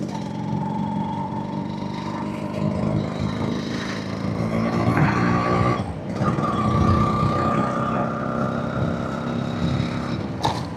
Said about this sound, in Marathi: गाडीची फायरिंग सुंदर आहे